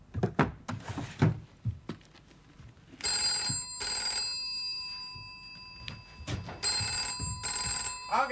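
An old landline telephone bell rings in two long bursts in a quiet room, with a short gap between them, after some faint knocks and handling sounds.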